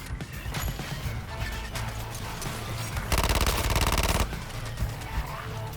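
Gunfire in Suicide Squad: Kill the Justice League, with scattered loud shots and impacts, then a dense rapid machine-gun burst of about a second before single shots return.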